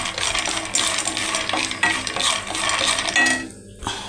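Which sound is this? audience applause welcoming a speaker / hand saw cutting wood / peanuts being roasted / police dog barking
peanuts being roasted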